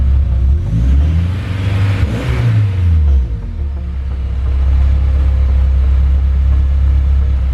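A Honda S2000 with a full 3-inch exhaust into dual 2.5-inch pipes and cut-down straight-through mufflers revs up and drops back to a steady, loud, low idle rumble, close by with no talking.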